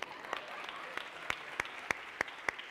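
A church congregation claps in slow, even unison during a Bengali sermon, about nine distinct claps spaced roughly a third of a second apart over a low murmur of the room.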